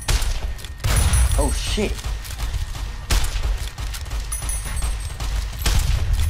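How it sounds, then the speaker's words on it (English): Gunfire from the video game Fallout New Vegas comes as loud booming shots and rapid fusillade bursts spread through the clip, with a player's voice exclaiming over the game sounds. "1, 2, 3, and I missed the third shot."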